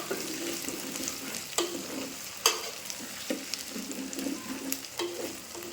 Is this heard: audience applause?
no